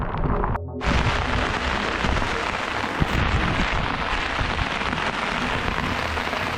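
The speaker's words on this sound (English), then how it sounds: "It's pouring down rain." Heavy rain pours down steadily on a campsite along a muddy outback track, a dense, loud, continuous hiss of drops drumming on surfaces, with a brief dip near the start and a single sharper knock partway through.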